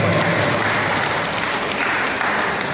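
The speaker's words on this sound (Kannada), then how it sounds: "ಜೋರಾದ ಚಪ್ಪಾಳೆಯನ್ನು ನೀಡಬೇಕು." Loud, continuous applause from an event audience in Mandya district at a Kannada rights group's new unit inauguration, a dense steady wash of many hands clapping throughout with no talk over it.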